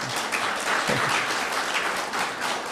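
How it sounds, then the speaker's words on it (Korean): A church congregation applauds steadily throughout, dense clapping at moderate distance, fairly quiet. "박수로 환영하겠습니다."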